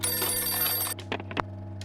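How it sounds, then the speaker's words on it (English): Telephone ringing in the video game For the People: a steady electronic ring for about a second that cuts off abruptly, followed by a few short clicks and knocks. "The phone suddenly rang on the evening of September 11th."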